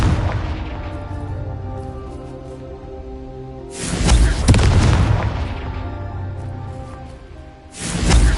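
Spell explosions from the Confringo fire curse in the Hogwarts Legacy video game: two loud, booming blasts with a broad crackling burst and whoosh, the first lasting about a second, the second starting at the very end, over a humming background score.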